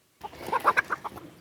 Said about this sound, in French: Pauvre poule.